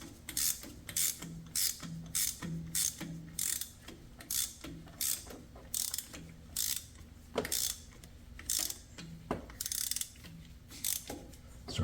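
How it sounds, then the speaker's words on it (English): A torque wrench ratchets steadily while tightening the crankshaft bolt on a Jeep Wrangler JK 3.8L during a crankshaft seal replacement, giving quick repeated clicking bursts up close with brief pauses between strokes and no talking. "we will use the torque wrench"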